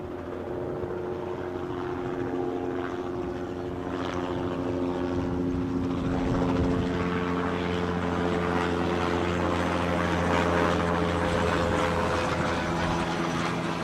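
A helicopter at Newcastle airport drones with a steady, loud rotor and engine roar that holds for the whole stretch, with wind rustle mixed in and no talk.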